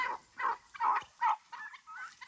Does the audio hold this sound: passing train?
no